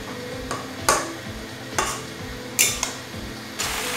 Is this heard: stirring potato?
yes